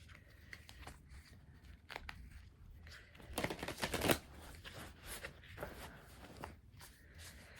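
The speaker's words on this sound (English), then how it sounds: "We're just going to try to shuffle this massive deck of cards." A large, oversized deck of oracle cards being shuffled by hand, giving soft irregular riffling and shuffling bursts with one louder flurry midway, close and quiet without talk.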